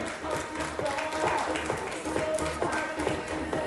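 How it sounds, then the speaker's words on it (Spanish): Crowd applause fills a Colombian national fitness and beauty competition hall for a woman competitor, a steady dense wash of many hands clapping at a distance, continuous and moderately loud. "Un fuerte aplauso para ella."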